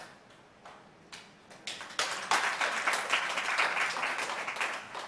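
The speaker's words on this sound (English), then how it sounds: "He said it, clap him." Audience applause at a midwifery leadership talk begins as a few sparse claps and swells after about two seconds into full, steady clapping from a room of listeners, moderately loud with no speech over it.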